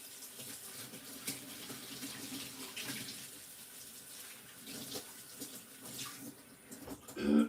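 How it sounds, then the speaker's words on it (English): Tap water runs in a steady, close stream while hands are washed at a kitchen sink, with a brief clatter near the end. "Wash hands, disinfect, and all that."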